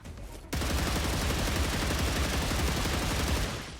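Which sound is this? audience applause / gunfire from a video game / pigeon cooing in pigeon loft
gunfire from a video game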